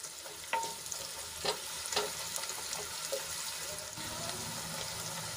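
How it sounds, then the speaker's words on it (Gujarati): Onions fry in a pan, giving a steady low sizzle with a few faint clinks and stirring sounds scattered through it. The sound is quiet and continuous, and nobody speaks. "તો ડુંગળીને આપણે ગુલાબી રંગની થાય ત્યાં સુધી ઢાંકીને ચડવા દઈશું"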